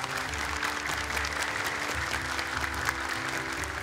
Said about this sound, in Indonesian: Boleh tepuk tangan untuk mereka.